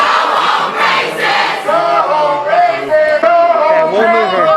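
A crowd of protesters on a college campus shouts and chants together in loud, rising and falling waves, voices overlapping up close.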